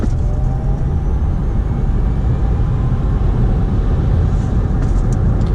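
A 2017 Chevy Bolt electric car accelerates hard to pass at highway speed, a loud steady road and wind roar filling the cabin with a faint motor whine.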